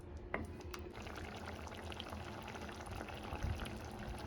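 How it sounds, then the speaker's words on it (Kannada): Yogurt being poured into a simmering egg curry in a pan over a lowered flame, a soft steady bubbling and sizzling with a brief splash, fairly quiet and close. "ಇವಾಗ ಫ್ಲೇಮ್ನ ಕಮ್ಮಿ ಮಾಡಿ ಮೊಸರು ಒಂದು ಆ್ಯಡ್ ಮಾಡಿ"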